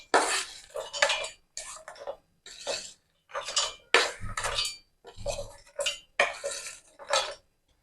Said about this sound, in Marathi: भाजलेल्या शेंगदाण्याला मिक्सर जार मध्ये टाकायचं आहे।